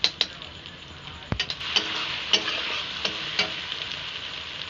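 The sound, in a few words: ghee sizzling in pan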